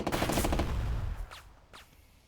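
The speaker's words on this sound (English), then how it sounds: "we'll shoot out this house" A burst of rapid automatic gunfire shoots at a house in the wartime strategy game Burden of Command, a dense rattle for about a second that cuts off, followed by a quieter pause with a couple of faint whooshes.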